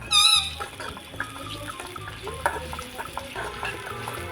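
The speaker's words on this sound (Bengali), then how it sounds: "কি সুন্দর করে ভাজা হচ্ছে" Onions frying in a pan for chicken biryani make a soft, close sizzle broken by scraping stirs, with a brief high squeal at the start.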